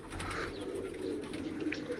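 Soft, low pigeon cooing at moderate distance over a quiet background hum, with a faint chirp near the end.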